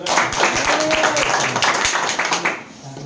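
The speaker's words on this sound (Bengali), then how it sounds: "আমাদের শাহজাহান ভাই এবং নাসির ভাইয়ের একটা তালি হয়ে যাবে" A crowd applauds Shahjahan and Nasir at a DXN Dynamic Team gathering in Jeddah, with dense, sustained clapping that carries through nearly all of the moment and tapers off slightly at the end, while a voice is faintly heard underneath.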